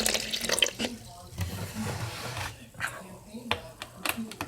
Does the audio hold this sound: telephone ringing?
no